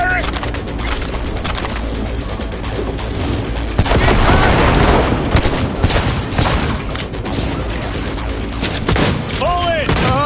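Gunfire in the video game Cyberpunk 2077 crackles in dense, continuous bursts with a heavier booming stretch midway, mixed with game noise and shouted voices throughout.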